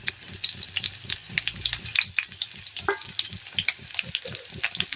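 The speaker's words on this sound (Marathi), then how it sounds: "ते कारले आता तेलात टाकायचे" Bitter gourd pieces dropped into hot oil, crackling and spitting in a lively, continuous sizzle with rapid pops close up.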